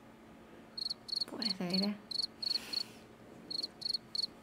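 Rhythmic cricket chirping from The Sims plays in short bursts near and clear, with a brief break where a voice speaks before the chirps resume.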